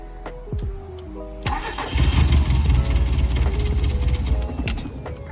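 After a few short cranking bursts, the 1991 Mazda Miata engine catches and settles into a loud, steady idle close by. No one speaks over it.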